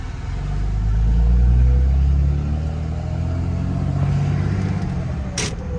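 A car on a test drive after power steering repairs, driving in a dust storm, with a low engine rumble that swells early and then holds steady, plus wind and road noise and a brief sharp rattle near the end.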